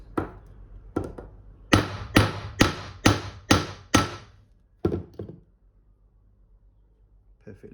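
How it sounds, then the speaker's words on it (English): A hammer tapping a bike chain joint held in a vise, several sharp metallic knocks, first two spaced blows and then a quick run of six evenly paced strikes, with a couple of softer taps after and no talk. "I'm going to give it a bit of a tapping."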